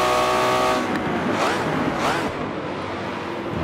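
Race cars on Infineon Raceway in Forza Motorsport 7: a steady whining engine drone with rising and falling pitch sweeps as cars pass, loud and continuous throughout.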